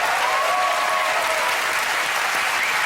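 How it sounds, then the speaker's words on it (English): A studio audience at a comedy quiz show breaks into sustained, loud applause, a dense clapping roar that holds steady from start to finish. "give her a round of applause"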